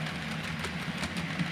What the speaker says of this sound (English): here we see a Class 25 hauling the up mail train